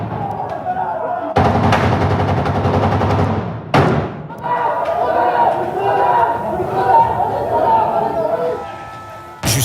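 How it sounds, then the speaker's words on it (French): Gunfire during a police assault on terrorists inside the Bataclan concert hall in Paris, a loud dense burst of shots and broadband blasts with a sharp cut and a second impact, under continuous commentary. "Puis des tirs en riposte."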